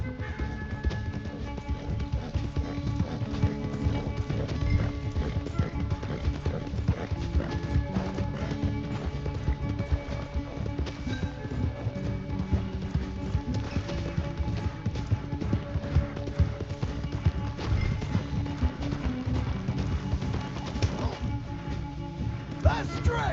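A horse galloping in the Red Dead Redemption 2 video game, with steady rapid hoofbeats running throughout a race alongside music and talk.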